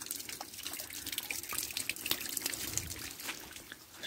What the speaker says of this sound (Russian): Ручьи. Кругом ручьи.